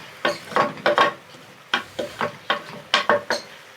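Rice with turnips and meat stir-fried in a pot, with rhythmic scraping strokes of a spoon in quick clusters over a soft sizzle, close and clear.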